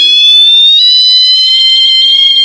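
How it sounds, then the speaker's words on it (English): A water level alarm from a school science project, built with a floating ball and aluminium sheets closing a circuit, rings loud and close as a continuous high electronic tone that slowly bends upward in pitch. "The alarm will start ringing as the electric circuit is closed."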